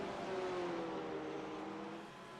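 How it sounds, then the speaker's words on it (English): GT3 race cars at Daytona in a racing video game hold a steady, loud engine drone that eases off slightly toward the end, with no talking. "These cars are so loud, man."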